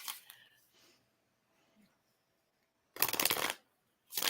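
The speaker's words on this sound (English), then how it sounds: "I am going to shuffle and we're going to draw our card for next week" Tarot cards being shuffled close up, two loud, dense riffling bursts after a few faint handling rustles and near silence.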